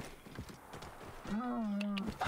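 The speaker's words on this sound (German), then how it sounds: "So, dann Pferdchen rufen." A horse is summoned in Assassin's Creed Origins: a loud, sustained whinny with a clear rising and falling tone takes over after about a second of hoofbeats and game ambience, ending with a short snort.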